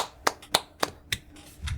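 Four sharp hand claps spaced about a quarter second apart, close and crisp, followed by a faint low rumble.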